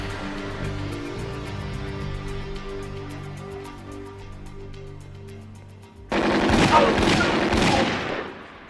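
A sudden, loud burst of gunfire with several rapid shots cuts in after a long stretch of steady low humming tones and runs to the end.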